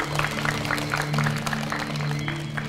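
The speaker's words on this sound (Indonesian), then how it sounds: "Boleh tepuk tangan semuanya." An audience claps together in a school quick-answer quiz show, brisk scattered clapping with a steady electrical hum underneath, lasting only a few seconds.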